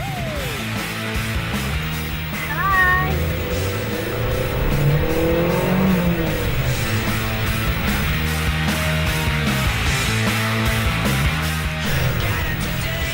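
A stolen car drives off, its engine rising and tires squealing briefly near the start, then a steady loud motor drone under music-like tones that lasts throughout.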